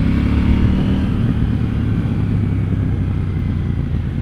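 A 2018 KTM Duke 790 motorcycle on the stock exhaust roars loudly and steadily as it is ridden on the road. The deep engine note holds close and constant throughout.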